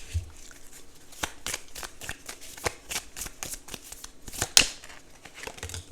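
Tarot cards being shuffled by hand, a rapid flurry of crisp riffling snaps and slides in a quiet room, with a sharper flick near the end as a card is drawn.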